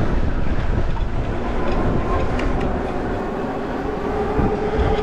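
A tram rolls along its rails on an Amsterdam street, close to an electric bicycle: a loud, continuous rumble and rattle mixed with wind noise that runs the whole length without pause.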